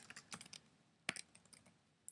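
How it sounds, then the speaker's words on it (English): Someone types on a computer keyboard with quiet, irregular clicks of separate keystrokes and a few sharper taps, heard close and alone at low volume. "I can keep typing"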